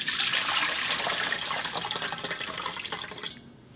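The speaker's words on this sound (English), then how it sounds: "And then pour water here." Water poured from a tap over soaked soybeans in a bowl while making soy milk, a steady close splashing and trickling stream that runs throughout and cuts off abruptly at the end.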